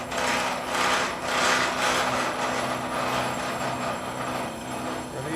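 A hand-fed circular saw with a set-tooth blade turns at about 90 rpm through metal, giving a steady, loud grinding rasp with rhythmic surges that continues without pause, and no one speaks.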